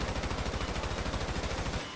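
Rapid automatic gunfire at the Ammu-Nation shooting range in GTA V, a close, continuous burst of evenly spaced shots that cuts off at the end.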